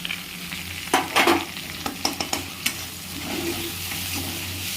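Onion frying in a pan with mustard, chillies, garlic paste, turmeric and Kashmiri chilli powder for an okra and prawn curry, a steady close sizzle broken by a few sharp scraping stirs near the start and middle.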